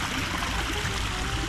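Water from a burst water main rushes steadily in an outdoor stream, a continuous close, rumbling flow with a low, gurgling churn and no break.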